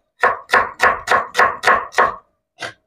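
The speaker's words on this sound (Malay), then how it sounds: "Ni saya nak potong bawang dulu." Shallots are chopped with a knife on a board in a home kitchen: seven quick, evenly spaced, crisp chops, then a short pause and one more cut, close and clear with no talk.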